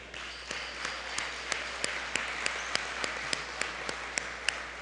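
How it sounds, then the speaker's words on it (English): Light, fairly quiet applause at an innovation gathering in Tampa honors the finalist teams, with individual sharp claps standing out at a regular pace over a soft, even bed of clapping. "deserves a round of applause"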